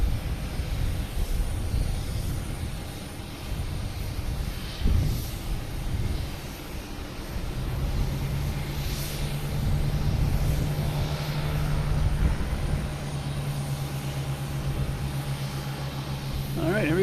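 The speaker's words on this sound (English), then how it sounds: "Cessna Citation Latitude." A Cessna Citation Latitude business jet at Boston Logan Airport, a distant broad engine rumble and whine rising over ambient noise, with a steady low hum joining midway as the jet runs on.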